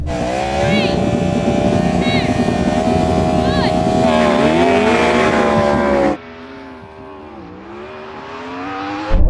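Drag race between a Ferrari SF90, a Porsche Taycan Turbo GT and a Yamaha R1M on a dry strip: loud, sustained engine roar with rising whines for about six seconds, then cutting to quieter engine noise with a voice over it.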